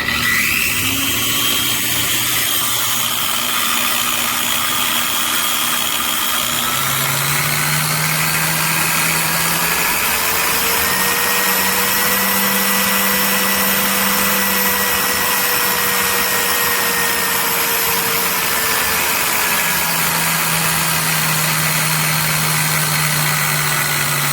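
An electric drywall sander motor hums steadily throughout, its whine rising and falling in pitch as the speed dial is turned, loud and close with no talking.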